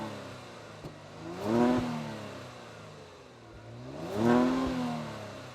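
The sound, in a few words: car exhaust revving, not a V8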